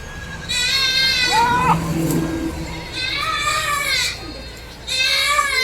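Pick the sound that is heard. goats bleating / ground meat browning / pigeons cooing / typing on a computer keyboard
goats bleating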